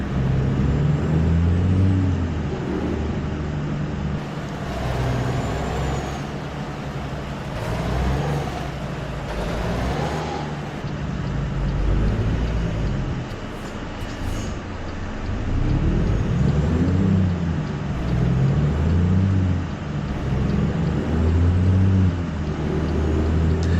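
A diesel truck engine in the video game American Truck Simulator rumbles steadily, its deep throb rising and falling as the revs change, loud and continuous throughout.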